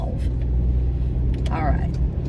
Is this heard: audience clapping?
no